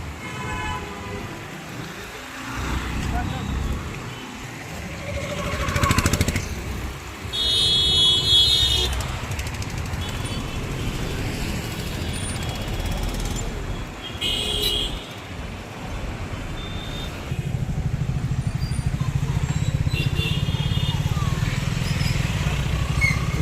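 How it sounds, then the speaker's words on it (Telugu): Slow-moving road traffic on a busy Hyderabad street, engines rumbling steadily with scattered horn toots, a louder, denser engine drone building toward the end. "మెల్లిగా దాటి మెల్లిగా వెహికల్ వస్తున్నాయి"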